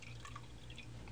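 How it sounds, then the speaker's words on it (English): Water running and dripping into a magnetic tumbler bowl as it is refilled, a brief, soft liquid trickle with no voices. "I'm going to go ahead and refill the bowl back up with water."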